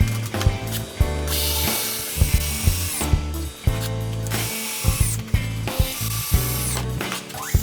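A power drill drives screws to fasten wooden blocks together for an acoustic guitar jig, loud close whirring bursts punctuated by sharp clicks and thunks as each screw bites and seats into the wood.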